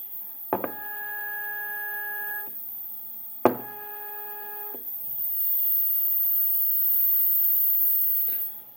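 Two stepper motors wired in parallel whine with pitched, buzzing tones in two separate bursts, each starting with a sharp click, followed by a quieter, steady hum.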